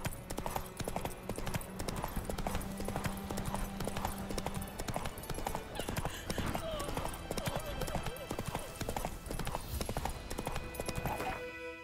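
Roach the horse gallops in The Witcher 3: Wild Hunt, rapid hoofbeats clip-clopping steadily and close, with game music and ambience under them and a voice talking over parts of the run.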